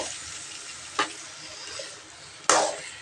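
Chicken being stirred in a frying pan for a chicken curry: two sharp scraping strokes a second and a half apart over a soft, steady sizzle.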